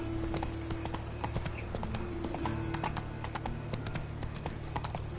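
Horse hooves clip-clop continuously in The Witcher 3, a rapid, even trotting patter over a steady low hum and ambient game background.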